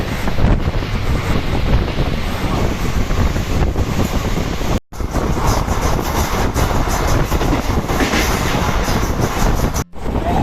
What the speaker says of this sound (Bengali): পাকুড় স্টেশনে ট্রেন ছেড়ে দিল